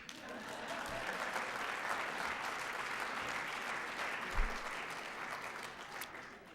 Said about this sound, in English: can we please have a round of applause for the end of winter?